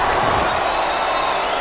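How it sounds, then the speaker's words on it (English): A wrestling video game crowd cheers in a dense, steady roar of many voices that fills the moment evenly without any clear peaks. "Sounds like this crowd's got something on their mind."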